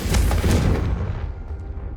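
A fiery Confringo blasting spell from Hogwarts Legacy bursts in a loud, booming double impact, then rumbles and fades out over about a second, with no voices.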